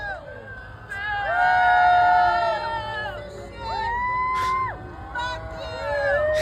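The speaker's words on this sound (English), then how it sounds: "there's a whole crowd outside of the restaurant booing Donald Trump" A protest crowd outside a restaurant boos and jeers Donald Trump: sustained, loud, wavering voices in overlapping drawn-out calls that rise and fall, heard from within the crowd.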